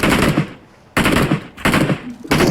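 Automatic gunfire in PUBG Mobile comes in three loud, close bursts, each lasting about half a second to a second, separated by short quiet gaps.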